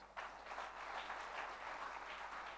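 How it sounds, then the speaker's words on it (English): Applause from an audience at the opening ceremony of a Rotary district conference, a steady wash of many hands clapping together at moderate loudness, sustained without a break and with no talking over it. "Let us clap for ourselves."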